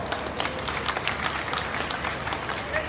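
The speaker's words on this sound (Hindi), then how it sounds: "जिनको लगती है ठीक है वो जरा एक बार जोरदार ताली बजा के दिखाओ।" A crowd at a Barwala political rally claps loudly on cue, a fairly faint, distant wash of many hands clapping at once, steady and dense with scattered sharper peaks.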